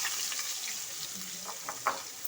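Chopped onion dropped into hot oil with whole garam masala for a Bengali posto katla fish curry, giving a soft, steady sizzle with a few brighter crackles and stirring clinks, no talking.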